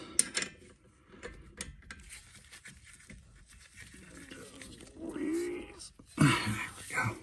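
A ratchet wrench with a 17 socket works a stubborn brake caliper bolt during a brake pad change, giving quick clicking and scraping bursts near the end, with quieter handling noises before.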